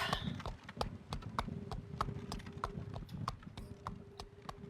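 Horse hooves clip-clop in the video game Traveller's Rest, a steady, fairly quick rhythm of sharp hoof knocks over a soft background hum, with no talking.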